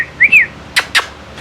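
A pet parrot whistles a short rising-and-falling two-note phrase, then gives two sharp chirps, close and clear against quiet room noise.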